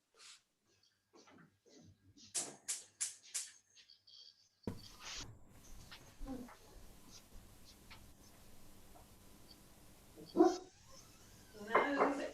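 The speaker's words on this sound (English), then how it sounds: "No, let's not have the barking and the woofing." A dog barks several times in a short sharp burst at an archaeological site in Turkey, followed by scattered clatter and a few more distant yips amid quiet background noise.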